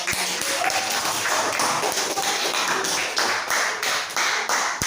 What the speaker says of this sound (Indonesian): Kita kasih aplaus untuk kelompok putri.